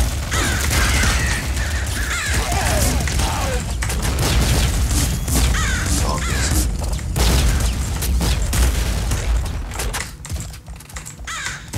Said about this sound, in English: Super flat cannon is probably one of my favorite weapons.